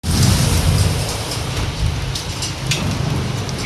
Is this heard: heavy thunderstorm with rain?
yes